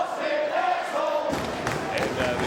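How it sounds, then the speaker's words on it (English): Wrestling arena crowd at a Ring of Honor match chanting at Austin Aries, a dense roar of many voices with rhythmic shouting and some thumps, loud and close throughout. "the crowd chanting something rather unpleasant to Austin Aries"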